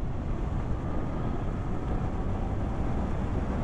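A Suzuki GSX 8S motorcycle ridden along back roads, heard as a steady broadband rush of wind and road roar with a low engine hum underneath, constant and unbroken.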